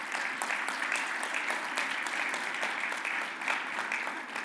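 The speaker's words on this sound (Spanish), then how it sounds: "Un aplauso." An audience applauds at a panel event on green hydrogen, a steady, even wash of clapping heard at moderate distance throughout, with no talking over it.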